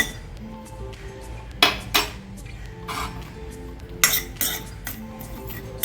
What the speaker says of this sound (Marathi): खसखस भाजायला वेळ लागत नाही त्यामुळं पटपट हलवायची